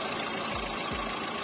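A car engine idles steadily while its cooling system is flushed and the coolant is drained and topped up at home, with a continuous low mechanical hum and no voices.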